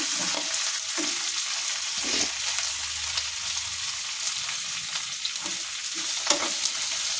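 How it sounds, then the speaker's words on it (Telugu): Green chillies, coriander, curry leaves and cumin crackle and fry in hot oil, making a dense, continuous sizzle close by, with a few scraping stirs along the way. "ఓన్లీ పచ్చిమిరపకాయలు కొత్తిమీర కరివేపాకు జీలకర్ర వేసి ఆయిల్లో వేయించుకోవాలంటే"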